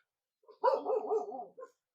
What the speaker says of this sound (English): that's the neighbour's dogs following me